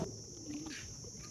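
Pigeons cooing near Aji Dam in Gujarat, a soft low murmuring coo that rises briefly at the start and midway over steady outdoor background noise, with no voices.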